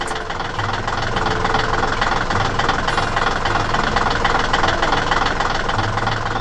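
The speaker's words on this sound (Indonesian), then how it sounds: "Traktor kuning sedang bergerak melalui medan yang berlumpur, dengan mesinnya bekerja dengan cepat dan efektif" An animated yellow tractor's engine chugs across muddy farm terrain, a busy, knocking mechanical rumble that runs steadily without pause.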